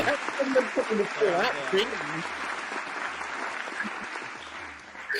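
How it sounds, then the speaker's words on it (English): Rapid clapping fills the clip, a dense steady patter that sounds a bit rough, with a voice talking over the first couple of seconds. "Is that sound effect supposed to be clapping?"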